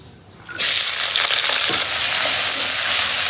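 Onion, green chili and garlic frying in oil in a wok, a loud steady sizzle that bursts in abruptly after a quiet start and holds evenly to the end, close and alone.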